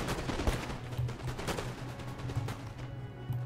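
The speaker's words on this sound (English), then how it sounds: "These guys are about to be ambushed by accurate rifle fire." Rifle volleys crackle across a Napoleon: Total War battlefield, a dense run of sharp shots and overlapping pops with a low rumble beneath, steady and fairly loud throughout.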